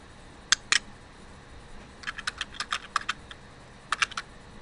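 Keys clack on a computer keyboard in short crisp bursts: a pair of taps, a quick run of typing, then a few more keystrokes, close by over a quiet room with no talk.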